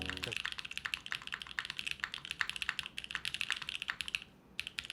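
Fast, steady typing on a computer keyboard fills the scene with a dense clatter of crisp keystrokes, close and fairly loud, broken by one brief pause near the end.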